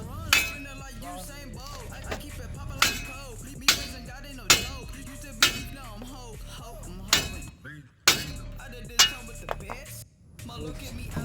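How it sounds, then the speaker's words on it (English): Repeated heavy metal-on-metal hammer blows strike the steering knuckle of a 2009 Nissan Titan, about a dozen sharp clanging strikes at a steady pace with brief pauses and some mechanical rattling between. "take your hammer, so I hit it from the top, the knuckle comes off"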